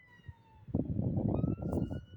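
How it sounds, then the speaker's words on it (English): A siren wails steadily in the background, its tone rising and falling, with rumbling traffic or crowd noise swelling beneath it partway through. "You hear the sirens?"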